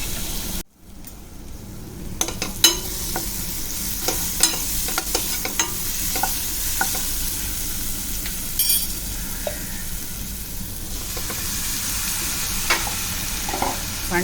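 Onion sautés in a pan with spices for a Malvani-style dish of small fresh prawns. A continuous close sizzle carries light, scattered stirring scrapes and taps for the whole stretch.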